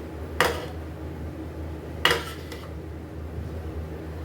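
Two sharp metallic clanks of a utensil striking a cooking pot while chicken dum biryani is mixed, spaced well apart over a quiet background.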